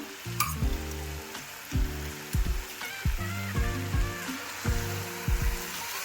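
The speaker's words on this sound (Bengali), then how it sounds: "1 চামচ আদা বাটা দিয়ে দিলাম।" Ginger paste frying in a pan for a Bengali cabbage, potato and rohu fish-head ghonto, with crackling sizzle broken by several loud clattering spoon or pan knocks at irregular intervals, fairly quiet overall.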